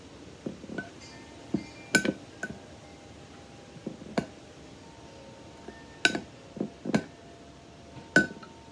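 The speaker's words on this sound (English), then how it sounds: "Then you have to stir it up." Rosehips are stirred in a glass container, giving repeated sharp glassy clinks and knocks in irregular bursts over a quiet background.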